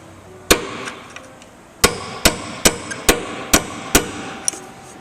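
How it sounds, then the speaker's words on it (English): A hammer taps a punch to drive out a pin on a 2015-or-newer Road Glide motorcycle, with a series of sharp metallic strikes, some spaced and some in quick succession, close and loud with no talking. "Let's take a hammer and a punch."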